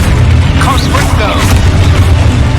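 A Confringo blast spell erupts in Hogwarts Legacy as a loud, dense boom that rumbles on. Swooshing magical effects run through it, and a voice is heard under the blast.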